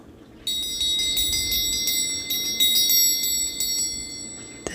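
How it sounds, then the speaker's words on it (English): An antique bell rings in a sustained, shimmering stream of bright high tones, steady and close over a faint low background hum, with no talking. "this antique bell"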